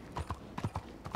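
Horse hooves clip-clop in Red Dead Redemption 2, a handful of soft, evenly spaced hoofbeats at a walking pace, fairly close and alone with no talk over them.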